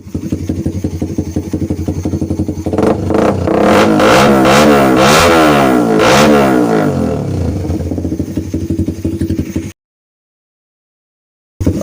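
A race motorcycle engine revs hard up and down in several close, loud sweeps, then settles back toward a rough idle before cutting off into silence.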